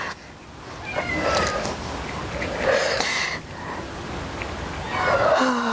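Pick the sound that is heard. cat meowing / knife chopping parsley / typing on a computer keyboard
cat meowing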